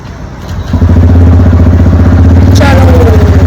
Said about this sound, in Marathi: और दिस is our bike end we R now going